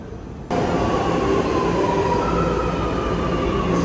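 Loud, steady rumble of a subway train running underground in Mexico, a continuous roar with a faint high whine, starting abruptly after a brief quieter moment.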